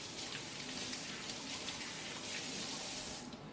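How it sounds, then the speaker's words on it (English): Garlic cloves rinsed under a running kitchen tap, a steady close hiss of water spilling over the cloves into a sink throughout, with a brief spoken line over it. "rinse and then give them a quick rinse"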